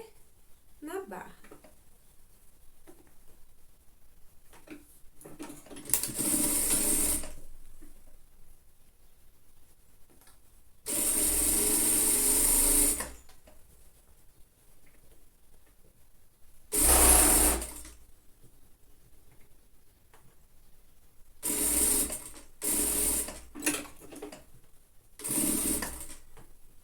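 Domestic sewing machine stitching a lined child's coat sleeve from cuff to hem, running in several short bursts of steady whirring separated by pauses, with someone talking in between.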